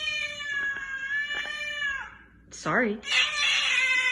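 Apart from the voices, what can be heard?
cat meowing at home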